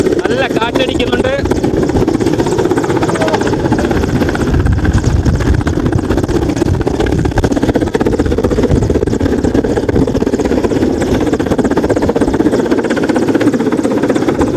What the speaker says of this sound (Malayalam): സൈനിക ഹെലികോപ്റ്റർ ഇവിടെ ഇറങ്ങുകയാണ് എന്ന് തോന്നുന്നു